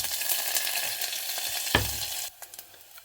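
Mustard seeds, fenugreek, garlic and curry leaves frying in oil for a Kerala fish curry, a steady close sizzle with a brief clatter before it quiets near the end.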